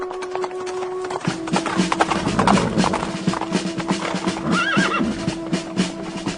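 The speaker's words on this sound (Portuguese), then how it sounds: "vejo alguns homens chegando a cavalo" Horses arrive with a steady clip-clop of hooves and a loud neigh partway through, as riders approach on horseback in a dramatized Bible reading.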